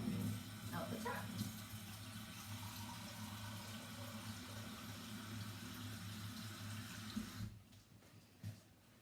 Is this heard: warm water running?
yes